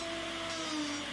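A CNC machine cutting a workpiece in a 1980s workshop gives a steady, loud whine and hum with sustained tonal lines, continuous and unbroken throughout with no talk.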